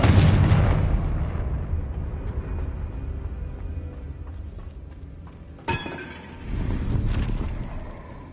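Confringo explosion spell from Hogwarts Legacy: a loud, broad blast that decays slowly over several seconds, followed by a second sharp burst and rumbling debris, with no talking.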